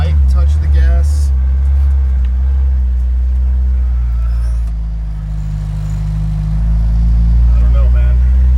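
Jeep YJ engine hesitating under light throttle, a loud, close, low rumble that dips and surges unevenly rather than revving smoothly, with someone talking over it.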